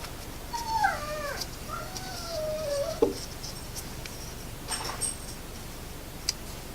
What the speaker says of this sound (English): you hear the dog whining in the background